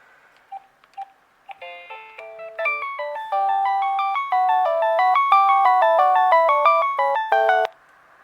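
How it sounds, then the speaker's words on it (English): A VTech CS-6858 DECT 6.0 cordless phone plays its ringer: a few short beeps, then a loud, bright electronic melody of rapid stepped tones that stops abruptly. "So now let's play the ringer from this phone and you can spot the difference."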